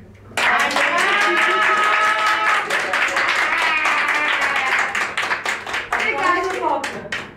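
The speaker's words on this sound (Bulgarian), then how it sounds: "Може ли силно да й пляскаме?" Children and guests at a birthday party clap loudly in a fast, continuous patter of many hands, with a sustained sung or shouted voice over much of it and the clapping thinning to scattered claps near the end.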